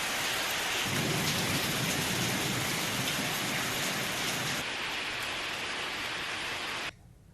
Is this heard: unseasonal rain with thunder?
yes